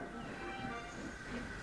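A passenger train rolling through a station, a faint, continuous rumble with hiss and a soft rail clatter, steady throughout with no voices.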